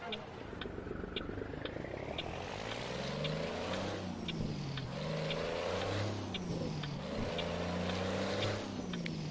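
A heavy truck engine in American Truck Simulator revs and rises in pitch repeatedly, droning steadily with gear-like swells, with faint ticking in the background.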